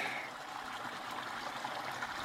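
A small creek flows steadily and softly in the background, a continuous gentle trickle and rush of water with no voices, close but low in level, in rangeland where cattle are being gathered.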